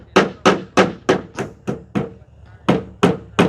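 Nails are driven into wood during house repairs with a hammer, about a dozen sharp, loud, evenly spaced blows with a short pause midway, close by and without talk.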